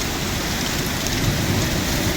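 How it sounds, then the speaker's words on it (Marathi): Heavy first-of-season rain in Baramati roars down in a dense, continuous wash, loud and close, with no voices. "एवढा भयानक पाऊस आहे, काहीच दिसत नाही जवळचं."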